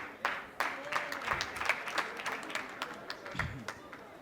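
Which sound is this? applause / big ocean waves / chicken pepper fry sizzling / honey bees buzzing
applause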